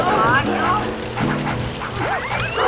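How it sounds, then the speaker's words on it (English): A small yappy dog in the Luigi's Mansion video game yips and whimpers in quick repeated bursts, heard up close over game sound effects and a speaking voice. "make that yappy dog be quiet!"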